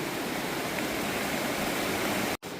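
A waterfall on a hiking trail pours in a steady, loud, unbroken rush of broadband water noise close by, cut by a brief dropout near the end, with no voices.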